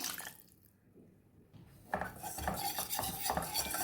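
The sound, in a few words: stirring milk into pan for white sauce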